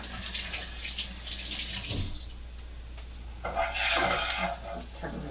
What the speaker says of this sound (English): we want to wash our hands again